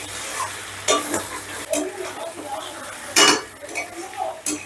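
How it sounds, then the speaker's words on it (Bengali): Paneer pieces are stirred into spices in a pan over a very low gas flame, giving soft scraping strokes and a few louder clinks of the spoon against metal, close by, with a faint sizzle underneath. "এবারে গ্যাসের আঁচটা একদম লোতে রেখে আমি পনিরটা মশলার সাথে একটু মিশিয়ে নিচ্ছি।"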